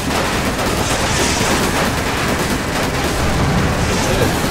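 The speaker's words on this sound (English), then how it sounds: "Enough warning shots!" Loud, dense gunfire from the Resident Evil 5 video game, a sustained barrage of overlapping shots that runs without a break for the whole stretch.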